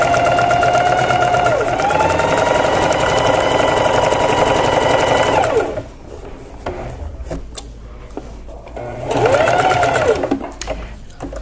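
A sewing machine runs while sewing apron fabric, a loud whirring motor stitching for several seconds, pausing amid light handling clicks and fabric rustle, then starting again briefly.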